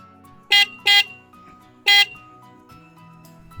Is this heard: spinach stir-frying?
no